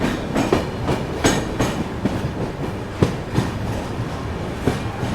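A Thiruvananthapuram North–Korba SF Express passenger train rolls along the rails near Ernakulam Town station with a steady rumble and rhythmic clickety-clack of wheels over track joints, close and loud.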